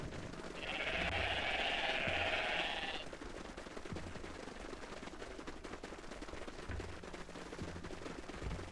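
Sheep bleat in the video game Everything, one sustained bleat early on over a constant game background hum, with faint repeating clicks and no talking.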